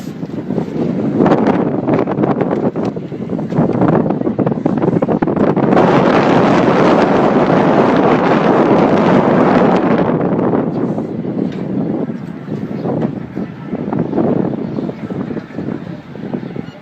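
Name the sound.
strong wind blowing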